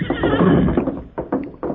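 A horse whinnies loudly in an old-time radio western drama, a long neigh followed by several short snorting bursts and a few hoof-like knocks, close and alone with no talk.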